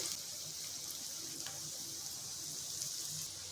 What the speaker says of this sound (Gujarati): તો એક સાઈડ આપણે અહીંયા કોથંબીર વળી તળાય ત્યારબાદ જ આપણે બીજી બાજુ પલટાવીશું